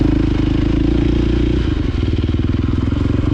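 2022 KTM 450 SX-F Factory Edition dirt bike on a motocross track, loud close engine drone that shifts into a rapid pulsing chug midway, heard from the rider's position.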